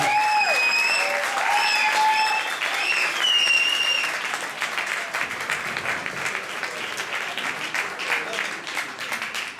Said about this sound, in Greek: Πραγματικά θέλω να δώσετε ένα δυνατό χειροκρότημα σε αυτό το παιδί.